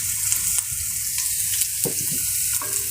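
Cumin seeds frying in hot oil on low heat for a haleem recipe, a steady close sizzle with a few brief scraping stirs and clinks of a utensil, no voices.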